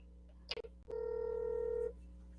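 A quiet click is followed by a single steady telephone tone held for about a second as a call is placed, then silence.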